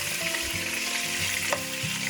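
Beef ribs browning in a hot pan, a dense continuous sizzle and crackle with a few soft knocks of meat or utensil, close and steady, no voices.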